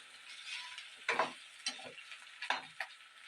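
Garlic hitting a pan of frying pork belly, a steady close sizzle broken by several sharp crackling bursts and scraping stirs, with no talking.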